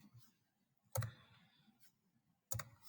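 Typing on a computer keyboard comes through as two short, sharp clusters of close clicks separated by quiet, with faint background noise between them.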